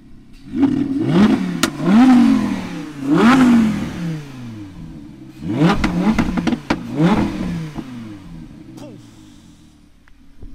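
An Audi R8 V10 Plus engine revs hard in several loud bursts, rising and falling whines with crackling, close up, with voices faintly underneath.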